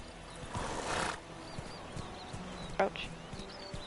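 Roach, a horse in the video game Witcher 3, gallops with soft hoofbeats and a brief whinny, a quiet game soundscape with a bird call, and a voice speaks over it.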